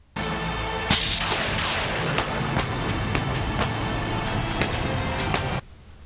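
A loud wash of crowd noise and crackle with sharp pyrotechnic bangs popping at irregular intervals, as fireworks go off during a wrestler's entrance in an arena.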